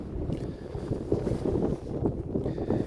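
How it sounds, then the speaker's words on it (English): Wind gusting across a hilltop on a coast-to-coast walk, a loud, steady rush buffeting the microphone throughout with no break. "Got some wind up here too. I'm sure you can hear it on our sound."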